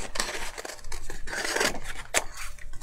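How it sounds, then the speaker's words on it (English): Scissors snip through paper while cutting out printed words for a memory-keeping craft project, a close run of crisp slicing and rustling strokes with no talk. "I'm just going to cut all of these out."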